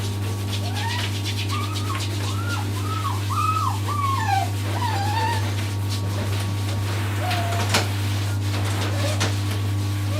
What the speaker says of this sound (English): They're pretty vocal doggies sometimes, aren't they?